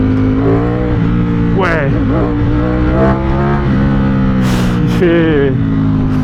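A 2024 Ducati Streetfighter V4S motorcycle accelerates hard on the road, its loud engine droning and rising through revs close to the mic, with wind noise and an excited rider talking over it.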